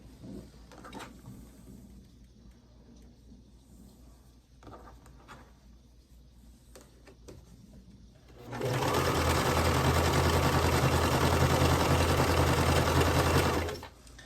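A sewing machine stitches the top onto a quilt block, running loud and steady for about five seconds after a quieter stretch of handling noises.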